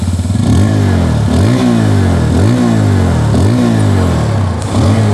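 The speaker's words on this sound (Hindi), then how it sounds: "बाकी यहाँ पर जो एग्जॉस्ट नोट है, चलिए उसकी वो भी मैं आप लोग को एक बार यहाँ पर सुना देता हूँ।" A 2022 TVS Apache RTR 160 2V or Bajaj Pulsar N160 motorcycle engine runs close and loud, its exhaust note rising in repeated throttle blips, about five revs in steady rhythm with no talking.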